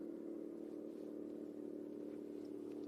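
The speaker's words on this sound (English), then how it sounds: "That's pretty crazy how loud that tractor is." A tractor working in a distant Midwest field gives a faint, steady, continuous engine drone with no breaks or changes in pitch, heard alone without talk.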